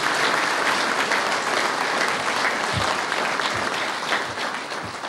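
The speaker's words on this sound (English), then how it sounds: "please give a big round of applause to the Prime Minister" A conference audience at a Pakistan and Malaysia investment event applauds the Prime Minister, a dense, even clapping that holds loud throughout and eases slightly at the end.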